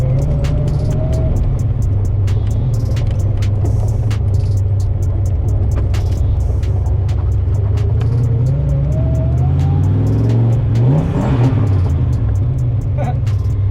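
An old car engine fitted with an old rusty turbo idles and runs steadily at close range, a constant loud rumble with a rise in revs near the end; no speech.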